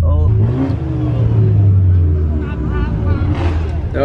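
Cars rev and race at a street car meet, a loud, continuous low engine roar with rising revs throughout, mixed with crowd voices and talking.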